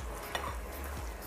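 Rice mixed with seasoning is stirred in a cooking pan, giving soft, faint scraping strokes with no talking.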